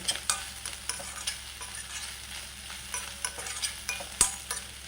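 Grated coconut and chopped green chilli stirred in a pan for bread upma, with repeated light scraping strokes and soft ticks of the spoon over a faint, low sizzle.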